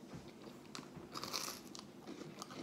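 Crunchy bite into a Red Baron French bread pizza with a crisp garlic-toast crust, several quick close crackling crunches and chewing sounds, faint and alone.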